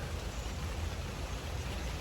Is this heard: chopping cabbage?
no